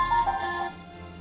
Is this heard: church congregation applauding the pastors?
no